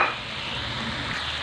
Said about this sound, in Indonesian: Kita masukin tongkolnya.